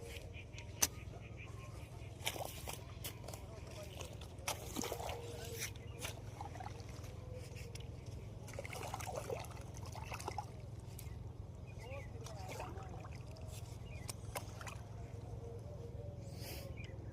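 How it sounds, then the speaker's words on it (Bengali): Irrigation water running in two directions through the furrows of a potato field, a steady low trickle and gurgle with scattered drips and clicks over a faint background rumble. "আলু সেচ করছি দেখতে পেয়েছ দুদিকে জল যাচ্ছে আবার"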